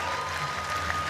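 Audience applause at a Night of the Legends fight event, a brief steady wash of clapping filling the hall at moderate level with faint crowd murmur.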